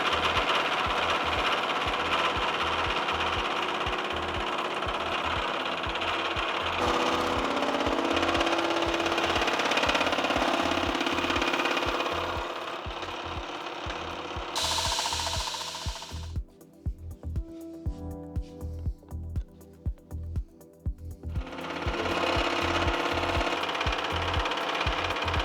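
Milling machine taking a heavy cut on a Damascus steel block, a loud rapid rhythmic chatter and grinding that drops out briefly into quieter irregular clunks before the cut resumes.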